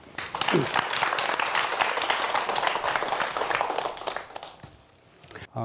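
An audience applauds at a lecture on volcanoes, a dense burst of clapping that holds steady for several seconds and then fades toward the end.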